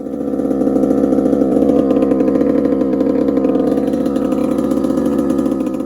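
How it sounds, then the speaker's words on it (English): A pressure washer washes down the frame of an RM85 dirt bike. A loud, steady motor drone with a strong pulsing hum runs unbroken throughout, close by and with no speech. "we're gonna wash her down with the pressure washer real quick"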